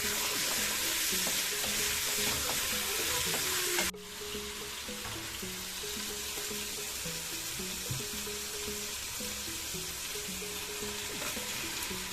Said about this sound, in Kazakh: Сосын тауық етін, пияз, чеснок қосып бірге қуырамын.